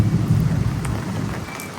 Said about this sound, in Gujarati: આપણે છે ને વરસાદ વધી ગયો છે